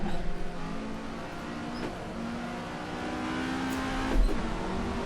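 A Lada 1300 race car in the Assetto Corsa racing game, its engine droning and revving steadily under load with shifting pitch, close and continuous, with other cars faintly audible around it.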